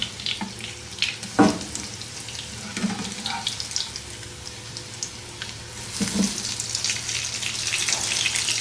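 A chicken fillet frying in a pan gives a close, steady sizzle, broken by a couple of brief clatters as it is turned over, after which the hissing swells again; no one talks.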